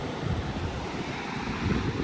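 The Yamuna flows as a mountain river with clear water, giving a steady broadband rush of moving water mixed with wind buffeting the microphone, continuous and fairly close throughout.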